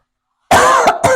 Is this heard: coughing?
yes